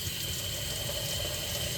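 Water flowing steadily through a repaired Watts comfort valve in household plumbing, a constant faint rushing hiss with no breaks or voices.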